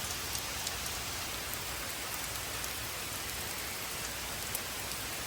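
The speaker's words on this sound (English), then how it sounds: "the rain's kind of raining sideways" Heavy rain at an RV park pours steadily, blown sideways in the wind, in a dense, even hiss with no voices.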